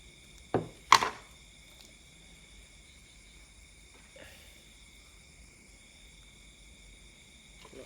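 Two quick, crisp snips close together as a grapevine stem is cut during grafting, followed by a faint click and a steady outdoor background of chirping insects, with no talking.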